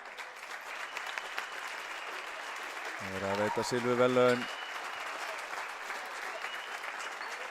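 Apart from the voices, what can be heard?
applause for the Keflavík girls' team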